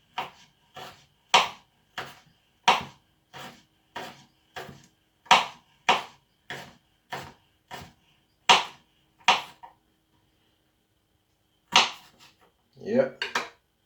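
Rapid, evenly spaced knife chops on turmeric root on a cutting board, about a dozen sharp thuds, then a pause and a couple of final clatters.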